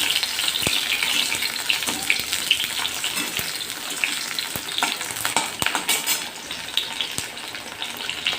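Drumstick vegetables sizzle in hot oil in a pan for Bengali shukto, a steady crackling fry broken by sharp clicks of a spatula stirring, with no talking.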